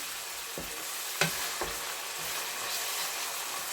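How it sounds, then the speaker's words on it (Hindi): Garlic sizzles and crackles steadily in hot oil, with a few soft scraping stirs, close and continuous with no talking. "जैसे ही हमारा थोड़ा सा लहसुन फ्राई होता है"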